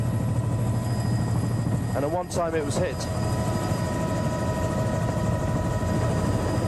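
A helicopter flies overhead in an area of intense digging in Kapamba, a steady low rotor and engine drone throughout the clip, with someone briefly talking over it.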